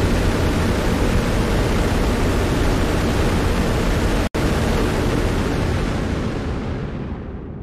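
Constant loud roaring hiss from the overheated engines of a Constellation spaceship in the Star Citizen video game, broadband and unchanging, cut by one abrupt momentary dropout before tapering slightly at the end.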